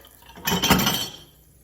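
Dishes clink and clatter in a short burst of washing up, a quick cluster of ceramic and cutlery knocks heard close by without any talk.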